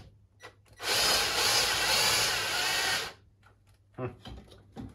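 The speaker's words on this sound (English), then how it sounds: "it's the pipe that we're drilling a hole into" A power drill bores a hole into a metal pipe for a full-metal dual yoke in a home Boeing 737 simulator build. It gives one loud, steady whine of about two seconds, with quieter handling clicks and knocks before and after.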